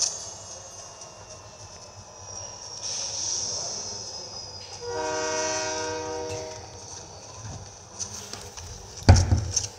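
In the video game Fortnite, a passing train sounds a clear horn blast midway over a background of rail rumble and ambient game noise, followed by a sudden loud thump near the end.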